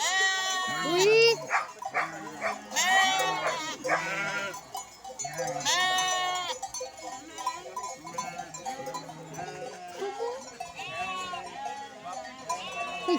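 A herding dog barks among bleating sheep and goats, the animal calls loud and close in a busy, overlapping chorus with people talking nearby.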